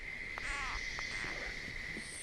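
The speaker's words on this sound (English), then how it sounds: "A frog locked in a deadly battle with a snake." Frog calling in the Chiquibul Forest jungle of Belize, a few short rippling croaks over a steady high insect drone, fairly faint and distant.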